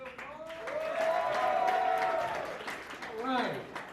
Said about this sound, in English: One more round of applause for everybody you've seen so far.